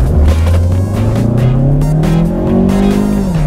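A front-wheel-drive 2016 Mazda CX-3 accelerates hard, its engine note rising steadily through the revs, loud and close from inside the cabin with no talking.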